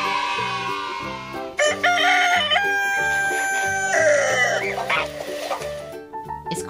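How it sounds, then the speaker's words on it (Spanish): A rooster crows loudly over a bouncy, repetitive musical backing, its call rising and holding before trailing off. "Es el gallo. El gallo hace kikiriki, kikiriki."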